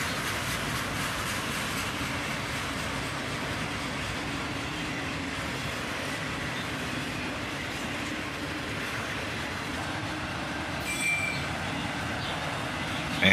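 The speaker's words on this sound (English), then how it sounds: "A northbound autorack train, led by a single" Northbound autorack freight train led by a single ET-44-AH locomotive rolling past, a steady broad rumble and rush of wheels and cars, continuous and fairly loud without pause.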